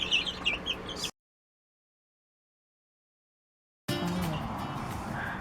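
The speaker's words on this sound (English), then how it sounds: "Brought a few chickens out to enjoy the outdoors" Chickens clucking outdoors, soft scattered clucks and chirps heard faintly before a dead silent gap, then returning amid low outdoor background.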